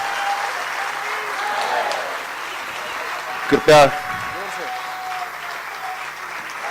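Sustained loud applause from a crowd fills a hall as a trophy is presented to boxer Mary Kom at an Indian honouring ceremony, with a short voice breaking through mid-way before the clapping carries on.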